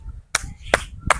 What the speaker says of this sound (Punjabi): ਮਾਰੀ ਵਾਜਦ ਤਾੜੀ